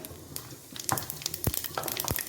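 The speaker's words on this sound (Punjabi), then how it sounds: "ਉਸ ਵਿੱਚ ਸਰੋਂ ਦਾ ਤੇਲ ਪਾ ਕੇ ਗਰਮ ਹੋਣ ਲਈ ਰੱਖ ਦਿੱਤਾ ਸੀ ਹੁਣ ਇਸ ਵਿੱਚ ਪਾਵਾਂਗੇ ਜੀ ਥੋੜੀ ਰਾਈ ਥੋੜੀ ਜਿਹੀ ਜੀਰਾ" Mustard seeds and cumin sizzle and crackle in hot mustard oil in a kadai, with scattered sharp pops over a low steady hiss, fairly close and with no voices.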